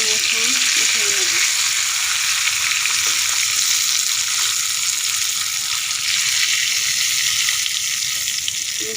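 Hilsa fish pieces frying in hot oil make a loud, dense, unbroken sizzle with faint bubbling underneath, close up and steady throughout, no speech.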